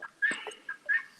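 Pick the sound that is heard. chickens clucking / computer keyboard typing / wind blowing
chickens clucking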